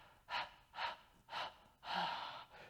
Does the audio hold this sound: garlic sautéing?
no